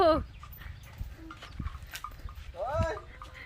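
Chickens cluck and squawk in short bursts while being chased around a Thai farmyard, the calls rising sharply near the start and again later, with people talking and shouting over them.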